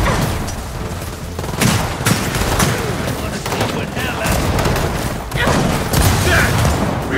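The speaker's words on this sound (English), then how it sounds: "Shotgun's a lot more effective here" Shotgun blasts and bursts of gunfire in the video game Gears of War 4, loud and close, in rapid clusters over a dense battle din.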